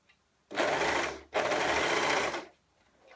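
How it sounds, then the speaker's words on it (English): A serger sewing machine stitches sweater seams with the presser foot down, running in two close, steady whirring bursts of about a second each, separated by a short pause, with no talk. "let's start serging with the presser foot down"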